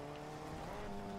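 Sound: car launched in a video game

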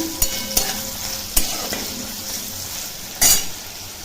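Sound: cumin, chilli and onion frying in pan

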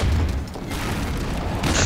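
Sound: Loose Cannon fire in Team Fortress 2 video game

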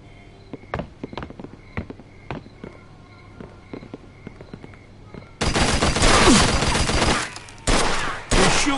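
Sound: gunfire in the video game Mafia II

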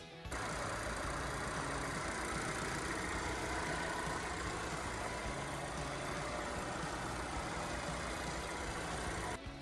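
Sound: petrol car engine idling

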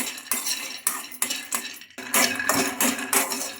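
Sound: stirring peanuts frying in a kadai

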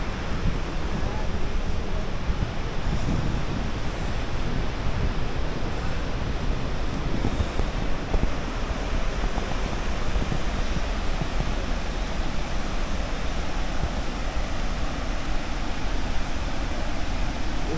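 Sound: roar of the Zambezi waterfall

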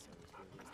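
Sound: dog in video game The Last of Us Part 2

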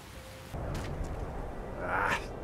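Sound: rain in the video game Skyrim

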